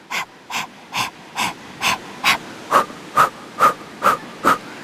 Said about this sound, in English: It's a little like a dog panting.